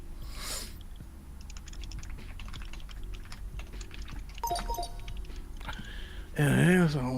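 Keys clatter in quick, uneven bursts of typing on a computer keyboard, with voices talking over it during a game of Star Wars Pictionary, and a louder vocal outburst near the end.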